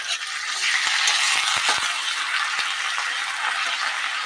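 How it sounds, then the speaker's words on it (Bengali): Ginger-garlic paste and turmeric frying in a hot pan, giving a loud, steady hiss of sizzling oil with a few soft scrapes of a spoon stirring through it, close and continuous. "এবার দেবো আদা রসুন বাটা হাফ চামচ দিয়ে এটাকে ভালোভাবে নেড়ে নেবো"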